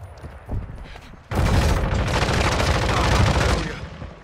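Sustained gunfire in Call of Duty Modern Warfare 2, a few faint shots at first, then a loud, dense burst of rapid automatic fire and explosions that carries on for a couple of seconds before fading slightly.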